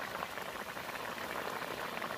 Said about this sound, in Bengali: ঝোল ভালোভাবে ফুটছে